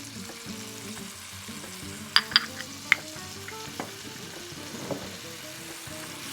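Chickpeas seasoned with salt and pepper fry in a pan with a steady, soft crackling sizzle, a few sharp utensil clicks near the start, and faint music in the background.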